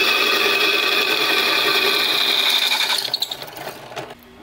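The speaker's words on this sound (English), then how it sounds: "Let's drill out the other one." A power drill bores a hole through a metal bracket during fuel system work on a twin-turbo LS project car, giving a loud, steady whining grind for about three seconds before it winds down and stops.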